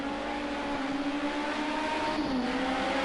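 Race cars sweep through a chicane with a sustained, whining engine note heard from a distance, its pitch sliding down under braking before holding steady again.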